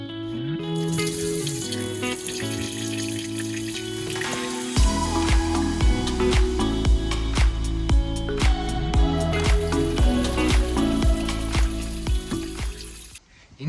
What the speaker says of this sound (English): all the water from the engine can get drained